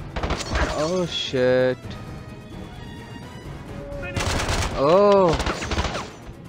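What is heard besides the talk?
gunfire from a new gun in a James Bond video game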